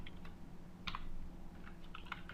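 Code being typed on a computer keyboard, a short run of soft, close key taps in small irregular clusters, quiet and with no one talking.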